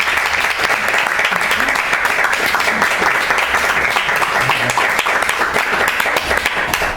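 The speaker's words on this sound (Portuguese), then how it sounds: "eu gostava que dessemos todos um grande aplauso de boas-vindas ao José Alberto Marques ao Porto." Steady, dense applause from an audience welcoming an author at a book presentation in Porto, the clapping sustained and loud throughout with no other sound standing out.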